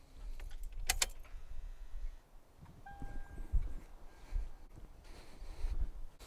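Keys jangle briefly as a car ignition key is turned, followed by faint clicks and a quiet, low rumble from the vehicle in a garage setting; no speech.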